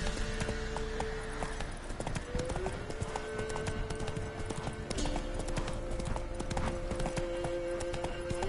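Horse hooves clip-clop steadily in The Witcher video game, a continuous close rhythm running throughout under sustained tonal background music.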